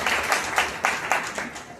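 Applause from an audience at the closing and prize-distribution ceremony of a fifth drama conference on Zadipatti theatre, heard as a steady wash of many hands clapping with several louder swells across a couple of seconds.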